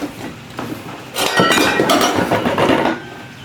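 Stainless steel gas stove parts being handled at close range, with a clattering run of metallic clinks and knocks, loud and busy through the middle of the clip before settling.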